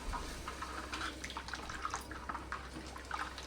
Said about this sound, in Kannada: ಇನ್ನೊಂದು ಸ್ವಲ್ಪ ನೀರು ಹಾಕ್ಕೊಳ್ತಾ ಇದ್ದೀನಿ.